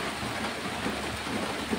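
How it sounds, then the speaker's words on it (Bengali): Heavy rain falling outdoors, a loud, dense and even wash of noise with no breaks and no voices. "এই দেখুন বন্ধুরা, কত বৃষ্টি হচ্ছে।"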